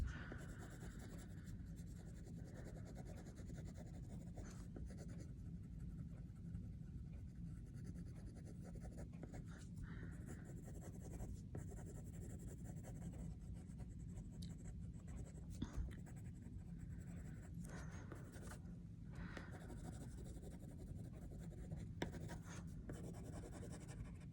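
Steady soft scratching of a pencil moving back and forth across paper, continuous and close, with small irregular strokes throughout.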